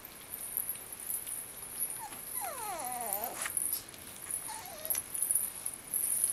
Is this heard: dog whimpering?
yes